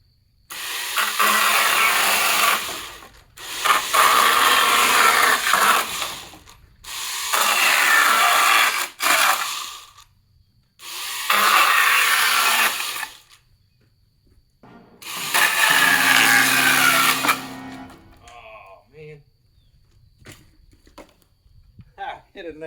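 A brand-new Milwaukee chainsaw cuts through wooden pallets in five loud, sustained bursts of a few seconds each, separated by short pauses, and the motor winds down at the end.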